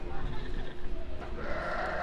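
A sheep or goat bleats in the goat and sheep petting area at Disney's Animal Kingdom, a wavering call over crowd murmur and nearby chatter.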